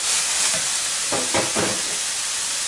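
Minced meat frying in butter gives a dense, steady sizzle, with a few brief stirring scrapes around the middle. No one speaks.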